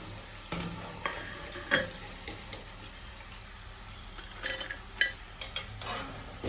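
Potato pieces fry in oil for homemade chicken loaded fries, giving a low, steady sizzle broken by sharp clicks and scrapes of stirring, with no voices.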